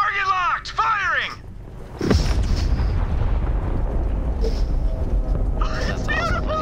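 A space laser fires and a big explosion booms in Borderlands 3, starting with a sharp low blast that then sustains as a loud rumbling roar. Whistling synthetic tones come before and after it, and speech sits partly under the sound.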